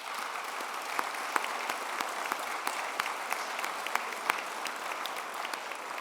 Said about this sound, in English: We should give Premier Harris a round of applause for that.